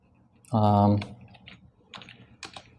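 Keys clack on a computer keyboard while text is typed into a design in Adobe XD: a few sparse, light keystrokes follow a brief spoken voice.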